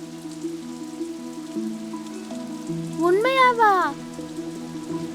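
Steady rain patters in a soft, even hiss beneath a tonal music bed, with a brief voice rising over it near the middle.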